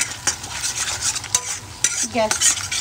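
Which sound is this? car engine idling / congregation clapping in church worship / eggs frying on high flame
eggs frying on high flame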